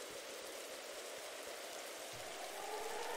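Acid rain in the Roblox game Disaster Island falls as a steady hiss of rain on surfaces, continuous and even throughout with no voices.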